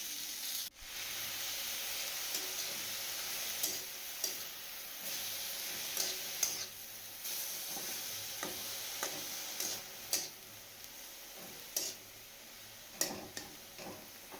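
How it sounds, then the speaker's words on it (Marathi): Finely chopped spinach being sautéed in a pan over sesame seeds gives a faint, steady sizzle with repeated small tapping and stirring clicks at irregular intervals. "त्यावरती तो पालक टाकायचा बारीक चिरलेला आणि दोन मिनिट फक्त परतून घ्यायचं"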